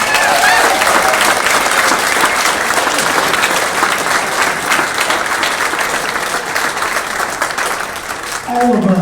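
A dense, loud wave of audience clapping at a Hall of Fame induction for the 1963 Yuma High School state champion wrestling team rolls on for several seconds, then tapers as a voice begins speaking.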